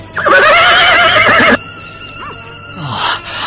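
A horse neighs loudly in an Indonesian radio drama: one long, strong whinny that ends sharply, followed by quieter background sound.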